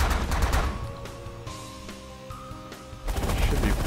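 Ships in The Last Federation fire weapons in clustered bursts of crackling shots, with a droning tonal hum between volleys and a heavier barrage at the end.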